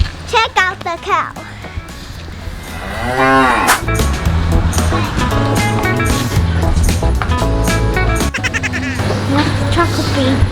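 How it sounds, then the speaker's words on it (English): A cow moos several times near a Swiss chocolate factory, the calls rising and falling over a busy mix of background music and people talking. "Cow."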